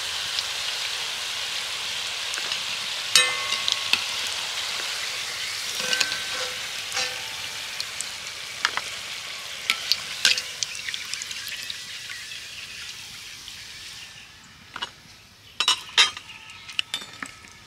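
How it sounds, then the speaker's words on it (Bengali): Flour snacks fry in hot oil with a bright, steady sizzle and crackling spatter, punctuated by occasional metallic clinks and taps of a utensil, close up and slowly quieting toward the end. "বাকিগুলো একইভাবে ভেজে নেব।"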